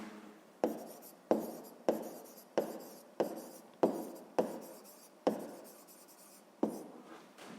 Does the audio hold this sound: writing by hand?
yes